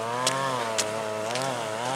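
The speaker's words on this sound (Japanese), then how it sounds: "どこ行ってもあのね、草刈り機の音をよく聞くわ。" Grass trimmer running in a park, a steady droning motor whine that holds constant with slight pitch wavering, a few brief clicks on top, no talk.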